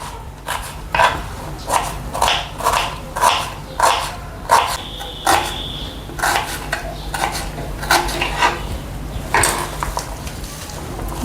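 A knife chops onions on a cutting board in a home kitchen, with a steady rhythm of about a dozen crisp, evenly spaced cuts that then turn slightly irregular, close and clear with no talking.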